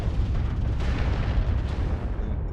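A missile strikes a mech in the video game MechWarrior Online, a loud, dense explosive rumble that fills the whole span and only begins to thin toward the end.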